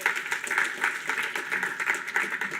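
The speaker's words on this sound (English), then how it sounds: "I want a big round of applause to Facebook for hosting us" Audience applause for the hosting sponsor at a programming conference keynote, a steady, dense patter of many hands clapping filling the room without pause.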